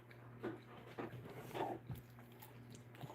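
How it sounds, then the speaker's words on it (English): A dog pants quietly indoors, soft rhythmic breaths with a few faint whimpers over a low steady hum. "Canelo, why are you panting?"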